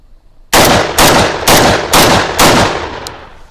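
A Maestro Arms shotgun firing 24 gram rounds: five loud, close blasts in quick, even succession, each with a short decaying echo. No one speaks.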